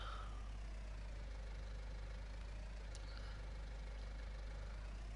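In Farming Simulator 19, a tractor engine idles steadily with a constant low droning hum and faint higher whine, no speech over it.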